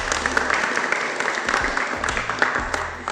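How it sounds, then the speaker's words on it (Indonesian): Classmates clap for a student named Anissa during a classroom acting lesson, a dense, steady patter of many hands lasting a few seconds at moderate volume. "Beri tepuk tangan untuk Anissa."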